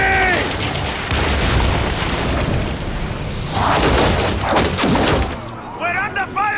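Cannon fire in an Assassin's Creed Origins naval battle: a dense roar of booming shots and rumbling blasts, with shouted voices near the start and again at the end.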